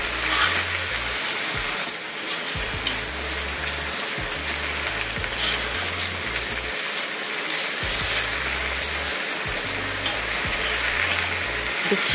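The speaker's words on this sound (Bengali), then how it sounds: "আলু ভাজা হচ্ছে, এরপর বাকি সবজিগুলো সব একসঙ্গে দিয়ে দেওয়া হবে।" Potatoes and other vegetables fry in a pan, a loud continuous hiss and crackle with a repeating low hum underneath and no talk.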